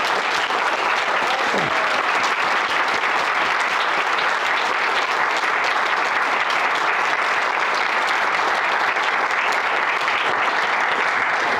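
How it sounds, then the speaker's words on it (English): Sustained applause from an audience for performers at a Shakespeare performance competition grand final, a dense, steady wash of clapping lasting throughout without a break, with no voices standing out. "Can we give a round of applause again to the performers?"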